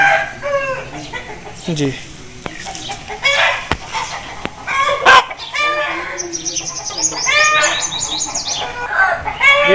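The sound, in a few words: Aseel breeder rooster clucking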